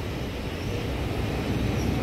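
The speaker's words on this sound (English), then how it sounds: "Oh no, it's a train." A diesel locomotive, a class 37 gonk, passes close by on a heritage railway line, with a steady loud rumbling roar and broadband noise throughout and no speech.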